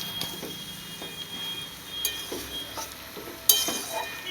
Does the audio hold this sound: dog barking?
no